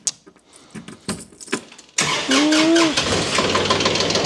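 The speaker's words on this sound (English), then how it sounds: "Let's get some heat in the Kubota though." A Kubota tractor engine cranks and catches after a few faint clicks and knocks, then settles into a steady, loud rumbling idle close by.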